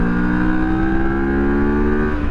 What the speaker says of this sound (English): so I locked up my rear wheel there on a downshift